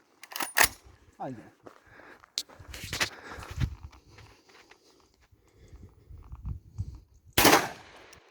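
An Aksa Crossfire .410 shotgun fires a few sharp, loud shots spaced several seconds apart, with people talking and moving about between the reports.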